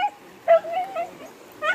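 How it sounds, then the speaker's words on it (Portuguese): A small dog, cut off by a flooded crossing on a bridge during heavy rain in Brazil's Northeast, gives short high yips and whimpers, fairly close, over a quiet rushing background. "O cachorrinho está latindo aqui, ó, porque o dono passou e ele não está conseguindo passar."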